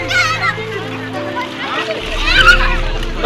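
Children bathing and splashing in the Ganges on the day of Ganga puja, with water sloshing and splattering close by while kids' voices chatter over it throughout.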